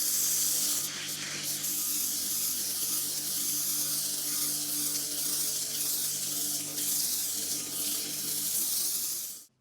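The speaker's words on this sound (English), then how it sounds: "This is a Kärcher with a suction tube." A Kärcher K7 power washer fed through a suction tube sprays steadily, a loud continuous hiss that holds evenly for the whole stretch before cutting off at the very end.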